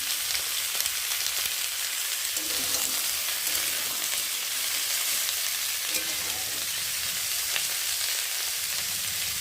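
Steady sizzling of chopped vegetables, diced potatoes, green chilies and onions frying in a pan, a continuous bright hiss with occasional soft stirring.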